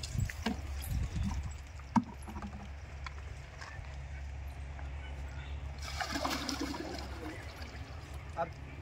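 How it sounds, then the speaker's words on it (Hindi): About 30 litres of buttermilk pours from buckets into a drum to make compost, with quiet splashing and sloshing in short bursts near the start and again later, and a voice faintly present. "इस तरह की आपको छाछ ऐड करनी है।"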